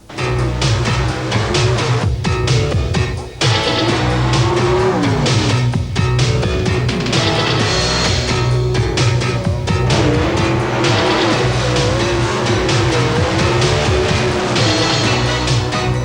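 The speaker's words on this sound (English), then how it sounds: "It's Pro Stock drag racing, a hair-splitting sport featuring Detroit production cars slightly modified" Loud, sustained engine roar from Pro Stock drag racing cars, slightly modified Detroit production cars, accelerating hard in the 1980s, with dense mechanical drone dominating and a brief dip before surging on.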